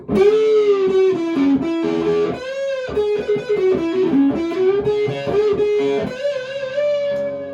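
An electric guitar plays a run of single notes through an Orange Crush Mini 3W amplifier, with a slightly gritty, distorted tone and a brief pause midway.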